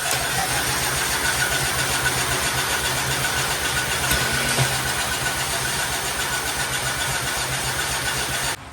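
A 1931 Viking tractor engine running steadily at a fast, even idle, loud and close with a dense rattling drone throughout, briefly dropping off at the very end.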